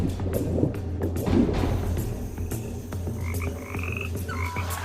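Frogs croaking in a steady, dense chorus, with repeated low throaty calls near and far, occasional soft thuds, and higher chirping calls joining near the end.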